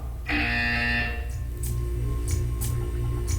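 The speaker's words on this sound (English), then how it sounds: "When you hear the buzzer, stare at the art." A single loud, steady electronic buzz in Portal 2 lasting about a second, followed by a softer mechanical hum with faint intermittent clicks.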